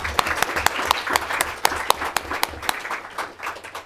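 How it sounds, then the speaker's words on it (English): Audience applauding at a talk on shale gas in China, steady crisp clapping from a modest crowd at close range that thins toward the end, with no talk over it. "some applause here"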